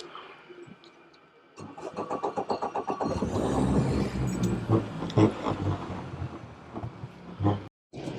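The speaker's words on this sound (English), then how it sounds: "I'm going to start the engine up, get it warmed up a bit" A boat engine cranks briefly, then catches and settles into a steady, throbbing idle that grows rougher and louder, heard close up with no talking.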